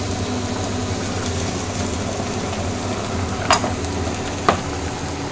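Chopped onion and chilli frying in a pan, a steady close hiss of sizzling oil with two short sharp clinks of a utensil, and a low continuous hum underneath, no voices.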